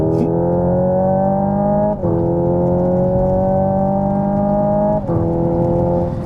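A continuous synthetic engine-like tone from a Hyundai Ioniq 5 N electric car rises steadily in pitch, dropping back briefly twice as if shifting gears, loud and sustained.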